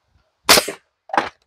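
Two sharp pneumatic nail gun shots fire into rough sawn lumber at a clamped joint while building a sawmill shed, each a loud close crack with a short tail, about half a second apart.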